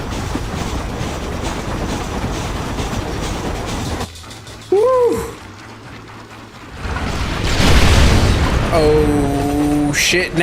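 A train in the video game Red Dead Redemption rumbles along with a continuous rolling roar, broken by a quieter stretch, loud booming, and a whistle near the end.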